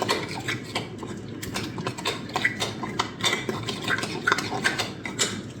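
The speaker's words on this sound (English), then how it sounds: "I'm just going to stir that, make sure it's all mixed in." A spoon stirs a roast beef mixture in a bowl, giving steady scraping and light clinking of metal against the dish, close and continuous for several seconds with no talk.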